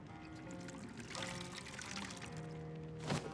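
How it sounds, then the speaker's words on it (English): Water pours in a soft, steady trickle while a refill goes on inside a tavern in modded Skyrim, faint, with a brief louder splash near the end. "let's refill the water."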